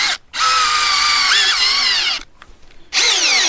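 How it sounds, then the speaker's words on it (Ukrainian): Cordless power drill driving a screw into oak at high speed, a loud whining motor burst of about two seconds, a short pause, then a second brief run starting up; no talking. "Друга максимальна швидкість і турбогвинт, який я не змастив"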